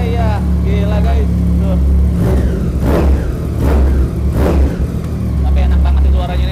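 A three-cylinder motorcycle engine is revved up repeatedly, several rising bursts close by with a whistling edge, while people talk over and between the revs.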